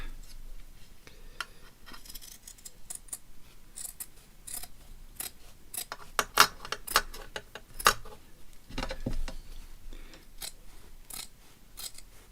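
Scissors cut through fabric for a festive stocking, with a quick series of close, crisp snips and clicks that come in irregular bursts, louder in the middle stretch, and no talking.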